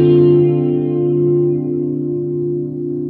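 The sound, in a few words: guitar through Electro Harmonix Grand Canyon analog delay, warbling modulation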